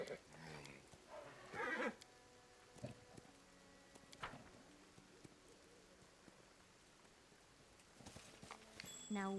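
Horse sounds in the fantasy game Pathfinder: Wrath of the Righteous: a loud whinny early on, then scattered sharp hoof knocks and clatters over a soft, rain-like ambient wash, with other brief bursts toward the end.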